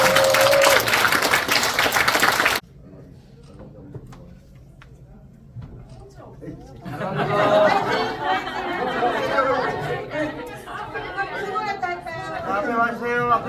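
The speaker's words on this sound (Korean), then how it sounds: "자신을 위해서 박수를 해주십니다." Audience applause at the 2023 Pocheon Korea–Denmark peace education international forum, a dense burst of clapping lasting a couple of seconds before dropping to quiet room murmur, followed by crowd chatter and talking.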